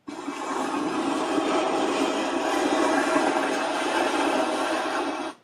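Steady broadband rushing wash of an ocean waves sound effect from a Govee Table Lamp 2 Pro speaker, like continuous surf, holding evenly throughout with no talking.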